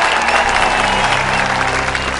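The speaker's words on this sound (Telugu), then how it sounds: "చప్పట్లు చప్పట్లు." A crowd in a dramatic film scene about farmers breaks into a short, dense burst of applause lasting about two seconds, loud and fairly close, with music or other background sound underneath.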